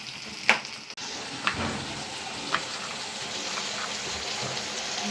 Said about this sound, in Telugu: పచ్చిమిర్చి, ఉల్లిగడ్డ వేగుతున్నాయి.